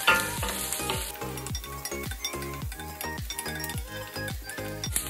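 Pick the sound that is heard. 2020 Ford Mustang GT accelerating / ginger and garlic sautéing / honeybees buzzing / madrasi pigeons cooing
ginger and garlic sautéing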